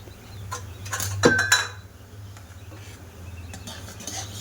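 Roasted flour being stirred into boiling water in a pot for bhapa pitha, with a utensil clinking and scraping against the pot, including one sharper knock, over a low steady hum.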